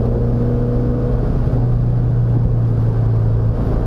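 A 1970 Opel GT drives on streets and canyon roads, its engine giving a loud, steady drone with a shifting pitch as it holds speed, heard close from inside the car.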